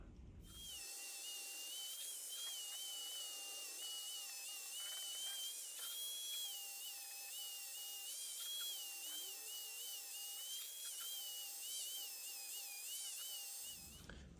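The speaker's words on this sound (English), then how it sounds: "now we're going to polish this with polishing compound and a Dremel" A Dremel rotary tool polishing guitar frets on a Squier Jaguar with polishing compound, a close, steady high-pitched whine with slight wavering pitch, running continuously and then cutting off at the end.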